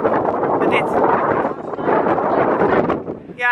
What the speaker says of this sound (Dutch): Het is vies weer en het waait.